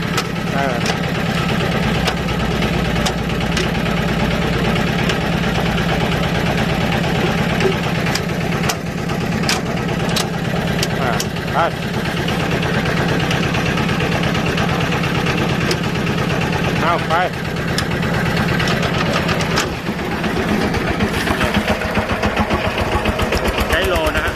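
An old Japanese Yanmar 11 hp walk-behind tractor engine runs steadily at idle, a close, continuous low chugging drone that holds through the whole stretch with faint background sounds.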